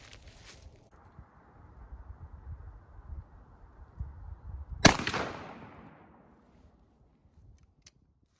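A shotgun fires a single Remington XLR high brass number 5 shell, one sharp loud blast outdoors that rings out and fades over a couple of seconds, with quiet handling noise beforehand.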